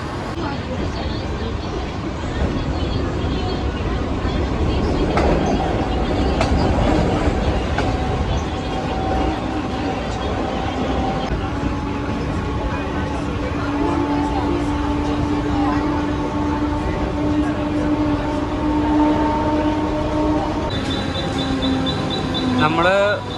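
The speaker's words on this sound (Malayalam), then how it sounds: "ബാന്ദ്രയ്ക്കുള്ള ട്രെയിനാണ്" A Mumbai local train runs toward Bandra, heard from inside as a continuous loud rumble and rattle of wheels on track, with passengers chattering in the background and a rising whine of motors and brakes.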